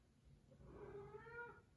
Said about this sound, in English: Please stop meowing.